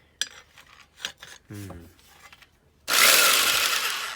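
A few light clicks and handling noises, then a loud, steady rasping of a tool cutting through a fuel line up close on a Mitsubishi 3000GT VR4.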